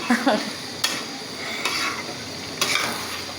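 Polao rice stirred in a pot, a few scraping strokes with a spoon against the metal, spaced about a second apart over a low background hiss.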